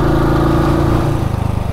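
A rattly motorcycle engine runs loud and close, holding a steady drone before settling into an uneven, pulsing idle with a clattering knock.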